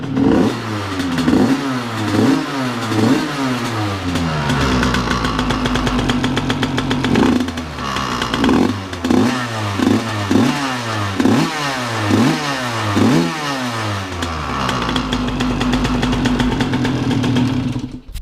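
A Derbi AM6 moped engine fitted with a Doppler digital ignition revs repeatedly in loud, rhythmic bursts, rising and falling close by in a steady series with short idle gaps between throttle blips.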